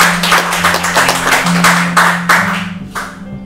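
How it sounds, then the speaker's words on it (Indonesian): Applause at a relaxed gathering with a Maluku-born infantry colonel, a short burst of dense hand clapping from a nearby group that quickly swells and then tapers off over a few seconds. "Tepuk tangan dulu dong"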